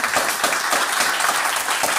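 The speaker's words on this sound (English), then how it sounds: "I would like one last round of applause for our designers." An audience claps for designers at a GLUE presents event, a steady, full wash of applause running throughout.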